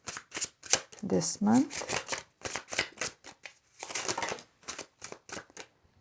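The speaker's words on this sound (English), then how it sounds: "I'll continue shuffling." Tarot cards are shuffled with quick, crisp riffling bursts that run beneath a woman's steady speech.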